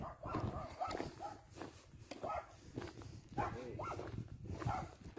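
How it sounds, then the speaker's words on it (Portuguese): Several dogs bark from behind the fence of a private rural property, sharp barks and yips that come and go at a moderate distance. "Olha os cachorros latindo."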